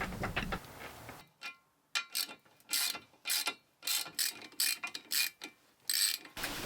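Reconditioned mast step being bolted in place on a sailing mast re-rig: a series of close, sharp mechanical clicks and ratcheting bursts in irregular clusters, separated by short silences, with no talk.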